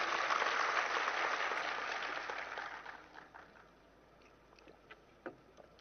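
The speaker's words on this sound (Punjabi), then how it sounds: "ਤਾੜੀਆਂ ਮਾਰ ਕੇ ਸਾਡੀ ਟੀਮ ਦਾ ਹੌਸਲਾ ਵਧਾਓ" An audience claps loudly at first, the applause thinning and fading out over a few seconds to scattered claps.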